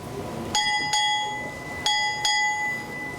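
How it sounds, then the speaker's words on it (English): At a US Navy change-of-charge ceremony, a ship's bell rings four times in two quick pairs, clear metallic strikes with ringing overtones that linger between them. "Strike 4 bells."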